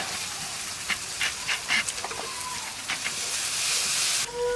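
Ginger-garlic paste and spices sizzling in hot oil with fried onions and cumin in a Bengali fish curry, a steady close hiss broken by bursts of spattering crackle.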